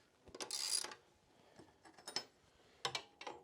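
A T50 Torx bit runs down the nut holding a Harley-Davidson Sportster front pulley, producing a few short, close mechanical ratcheting bursts with quiet gaps between them and no talking.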